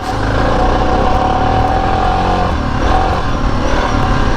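A Suzuki DR650 dual sport motorcycle being ridden, its single engine droning loud and steady up close with a constant rough rumble throughout.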